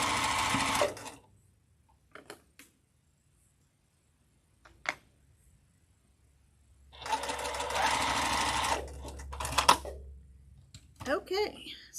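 A sewing machine stitches nested quilt block seams in short runs. The longest is a steady close whir, with light clicks and handling noises between bursts.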